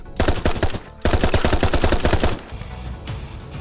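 Rapid bursts of Uzi submachine gun fire in a VR shooter game, loud and close, with a short pause near one second before another long burst that trails off into quieter shots.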